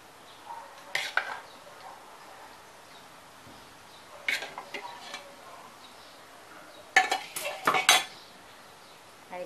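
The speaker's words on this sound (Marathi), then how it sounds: "मी आता एका ह्या सर्विंग बाउलमध्ये काढून घेते." A traditional village mutton dish is scooped into a serving bowl, with a few sharp metal spoon clinks and scrapes against the pot in short bursts separated by quiet gaps.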